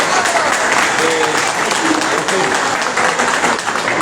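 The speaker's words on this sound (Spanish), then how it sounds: "Un fuerte aplauso" Audience applause in the Peruvian congress, a loud continuous roll of clapping from a crowded chamber, with voices faintly underneath.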